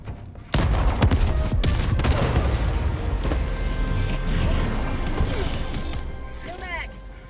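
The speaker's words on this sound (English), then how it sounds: "Throwing grenade." Grenade blast in the co-op shooter Helldivers 2 against bugs, a sudden loud boom followed by sustained rumbling gunfire and crashing explosions throughout, with people talking over the chaos.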